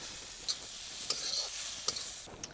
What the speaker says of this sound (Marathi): कांदा लसूण मसाला याच्यामध्ये टाकायची आता कोथिंबीर मसाले खमंग परतले तर आता टोमॅटो टाकून घेऊ